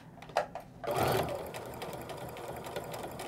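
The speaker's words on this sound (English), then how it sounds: "stitch all the way to the end," A sewing machine fitted with a quarter-inch foot stitches and reinforces fabric seams on a beginner nesting bag, giving a couple of short starts and then a steady close mechanical whirr of rapid stitching.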